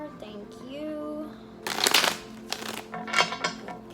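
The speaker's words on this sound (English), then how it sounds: "Two more shuffles." A tarot deck being shuffled: a quiet voice speaks briefly, then a burst of loud riffling card flutter follows, with a second shorter shuffle after a pause, all close up.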